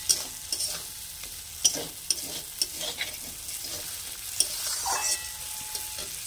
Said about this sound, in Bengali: তো দেখুন এভাবে কষিয়ে নেব, মশলা থেকে তেল ছাড়া অবধি অপেক্ষা করব।